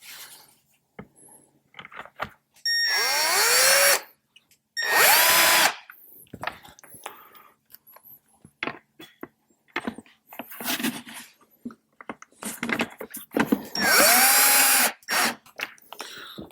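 A power driver runs in about three short whirring bursts, each one to two seconds long, as it tightens screws that hold a speaker into the plastic fairing of a Harley-Davidson Electra Glide. Clicks and handling noises come between the bursts, and there is no talking.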